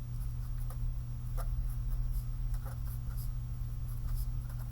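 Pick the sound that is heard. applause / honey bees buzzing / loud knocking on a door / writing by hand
writing by hand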